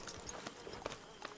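Horse hooves in Red Dead Redemption 2, a faint, steady clip-clop of a walking horse with irregular soft knocks through the whole stretch under low ambience.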